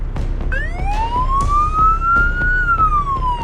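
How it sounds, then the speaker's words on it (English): An ambulance siren wails loud and near as a paramedic crew in Melbourne's northeast drives under lights to an emergency, its rising and falling tone sweeping steadily over road rumble. "Leonard and Nicola are on their way to the elderly woman under lights and sirens"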